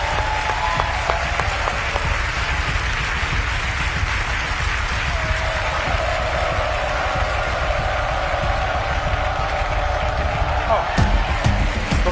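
An audience claps and cheers for the gymnast Astrid during a Guinness World Record flying bar attempt. The crowd keeps up a dense, sustained roar of applause throughout, and voices and a sustained tone run underneath.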